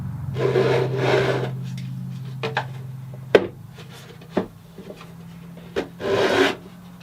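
Repeated rasping strokes of sandpaper rubbing against the wooden neck joint of an acoustic guitar, in uneven pulls with short pauses between them, close by.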